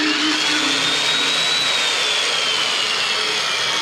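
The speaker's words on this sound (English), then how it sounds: "the motor's working, but nothing's spinning, none of the blades are spinning" Electric motor of a 1950s Sunbeam electric lawn mower running with its blades not spinning, a loud steady whine with a high tone that drifts slightly, continuous and close.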